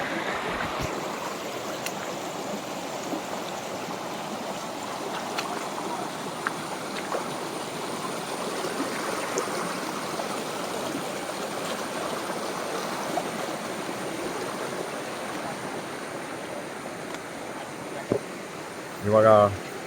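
Steady rushing flow of a stream at Kudlutheertha falls, a continuous close wash of water running the whole way with a brief bump near the end.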